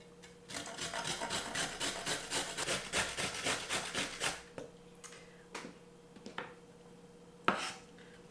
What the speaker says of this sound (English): Then we're gonna grate up a carrot.